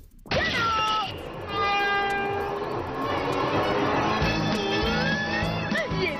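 A cartoon electric train starts to move, with a sustained horn-like tone over steady rumbling and rhythmic rail clatter, loud and continuous throughout and ending with a brief rising sweep.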